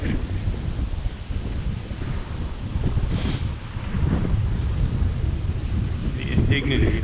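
Strong wind buffets the microphone on a New York City street, a continuous low roaring rumble that thickens and grows louder midway through.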